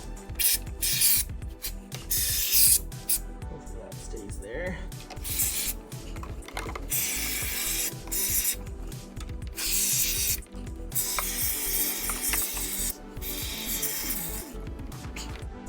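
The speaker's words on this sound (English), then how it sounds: "So a simple can of spray foam." Intermittent hissing bursts of expanding spray foam from an aerosol can, interrupted by pauses and handling noise, with someone speaking briefly in between.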